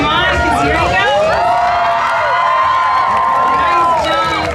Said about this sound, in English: so cheer him on, because here he goes.